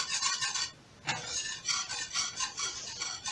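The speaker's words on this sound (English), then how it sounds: "Doesn't say to keep whisking, but you know what? I'm gonna give it" A whisk scrapes rhythmically through sauce in a bowl for a slow cooker honey sesame chicken, with bright, close, rasping strokes in repeated bursts and a brief pause near the start.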